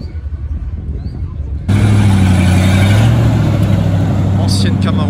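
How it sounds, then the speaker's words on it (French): An old Chevrolet Camaro SS engine rumbling loud and close, kicking in abruptly with a deep, sustained throaty drone, with a voice talking before it starts. "Ancienne Camaro SS. Oh là là, quel bruit elle fait celle-là."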